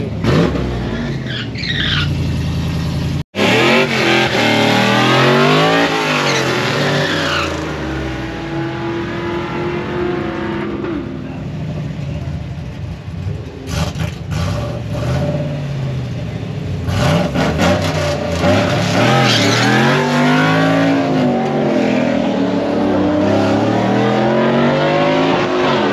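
Pickup truck engine revving hard and loud, with rising and falling sweeps of engine pitch and a brief cut, continuous over about twenty-five seconds.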